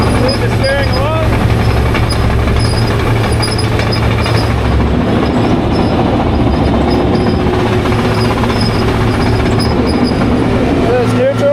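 A John Deere 700J dozer drives forward in high gear, a loud, continuous diesel rumble with rattling and clanking metal tracks, close by, with a person talking over it.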